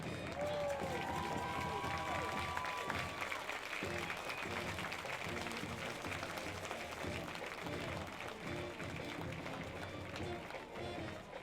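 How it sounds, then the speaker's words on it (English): A high school football crowd applauds the state champions, a broad, sustained wash of clapping and some cheering that fills the stadium at moderate distance, with background voices mixed in. "on your feet for a great round of applause for the state champions"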